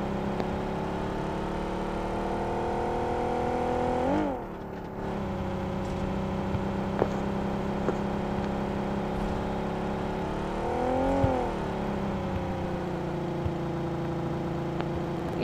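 A McLaren Coupe RP in BGMI drives with a steady, moderately loud engine whir, dipping briefly around two gear shifts or turns, with no speech over it.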